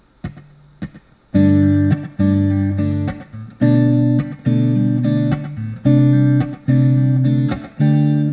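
An acoustic guitar played through Spark amplifier presets, with strummed chords ringing out in a steady sequence of loud, sustained strikes after a few quieter opening plucks, and no talking.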